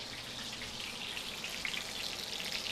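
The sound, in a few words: chicken Milanese frying and crackling in a pan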